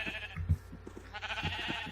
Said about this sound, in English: We're grabbing a ton of sheep right here.